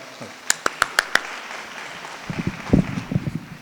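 Five sharp, separate handclaps ring out near the mic at a Lima Area Concert Band performance. Softer, scattered clapping and low voices follow.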